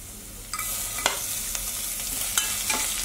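Chopped onion hitting hot oil with garlic, sautéed into a steady sizzle, with several sharp scraping stir strokes from a spoon against the pan through the frying. No one speaks.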